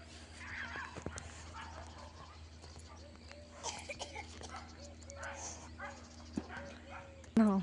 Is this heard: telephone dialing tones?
no